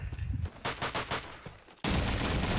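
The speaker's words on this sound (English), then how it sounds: "Lance though, taking down Cake, trying to get a bit of a revenge frag there onto him" Gunfire in Call of Duty 2 during a competitive match: a rapid volley of close shots, then a sustained loud wash of fire and noise, with no talking.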